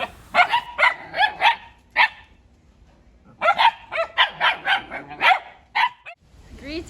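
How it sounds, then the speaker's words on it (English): Dogs barking outdoors in a rapid series of loud, close barks and yips, two bursts of repeated barking separated by a short quiet gap. "These dogs were just barking the entire time while I was cooking,"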